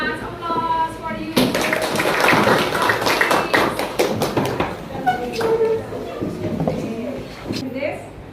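Classroom applause from students, a dense run of rapid hand claps and taps lasting several seconds, mixed with voices and chatter around it.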